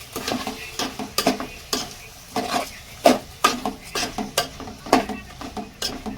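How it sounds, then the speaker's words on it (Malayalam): Masala and rice being stirred in a pot while making tomato rice, a run of repeated scraping, clinking strokes of a spoon against the metal pan, close and fairly loud, with faint sizzling underneath and no talking. "ഇനി നല്ലോണം ഒന്ന് ഇളക്കി കൊടുക്കാം"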